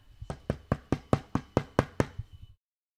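About ten sharp knocks on a door in a quick, steady rhythm, close and fairly loud, with no voices over them before the sound stops abruptly.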